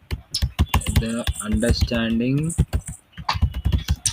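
Rapid clicking of computer keyboard keys under a person talking almost continuously, with clearer bursts of typing in the pauses near the end.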